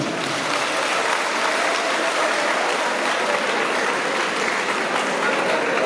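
A large audience applauds at a ceremony, dense continuous clapping that fills the whole stretch evenly and loudly, with a crowd murmur blended in.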